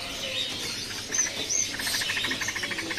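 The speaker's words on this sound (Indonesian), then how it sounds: "Di sini ada burung terucuk ya." A trucuk bulbul in a bird kiosk gives several bright, high chirping notes and quick repeated twittering phrases, close and fairly clear over a faint busy background, with no talking.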